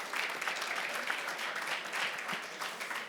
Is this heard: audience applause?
yes